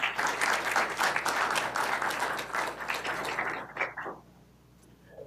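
An audience breaks into sustained applause to welcome Professor Webb before a lecture on malaria in tropical Africa. The clapping is steady and fills the room, then thins out and fades near the end.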